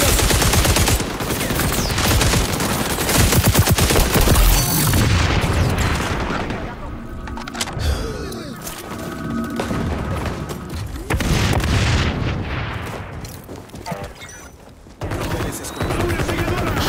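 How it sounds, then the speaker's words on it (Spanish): A sticky grenade blast amid gunfire in the shooter XDefiant: heavy, continuous automatic fire and booming impacts fill the scene, loud and close, with a few quieter lulls between bursts and game voice callouts heard now and then. "Desplegando granada pegajosa."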